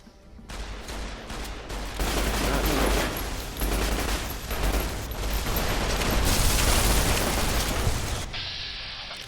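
Gunfire in the Fallout: New Vegas video game, loud rapid bursts of shots with booming impacts layered into a dense, sustained barrage that thins near the end.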